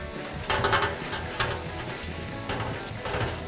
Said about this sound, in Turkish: Bunu şöyle karıştırıyorum